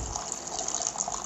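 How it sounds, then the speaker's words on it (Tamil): Water is poured from a vessel into a pan of sautéed masala for a raw mango and anchovy fish curry, a steady gushing pour close by with no talking. "அதுக்கப்புறமா கொஞ்சமாக நீங்கள் தண்ணி சேர்த்துக்கோங்க."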